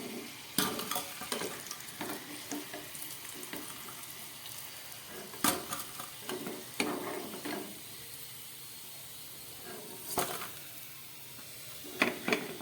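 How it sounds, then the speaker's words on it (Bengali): Vegetable chops fry in hot oil, a continuous close sizzle broken by repeated scraping knocks of a spatula turning them in the pan, the clatters coming irregularly every second or two with no talking. "ঘুরিয়ে ফিরিয়ে ভাজতে ভাজতে দেখুন চপগুলো একদম ভাজা রেডি হয়ে গেছে।"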